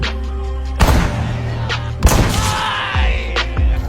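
Sharp gunshots from a sniper rifle in a movie crack out in three or four separate loud bursts, each with a booming decay, over a background of tonal film score.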